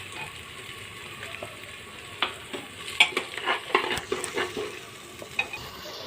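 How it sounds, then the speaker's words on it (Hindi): Spices with turmeric frying in hot oil in a pan while being stirred, a constant sizzle broken by irregular scraping and clinking of a spoon against the pan, growing busier partway through. "अच्छे से भून जाए, इसका कच्चापन चला जाए।"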